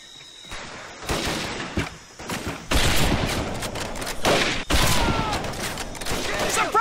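Dense, continuous suppressing gunfire from a WWII video game battle, with overlapping rapid bursts and shots crackling loudly and almost without pause throughout.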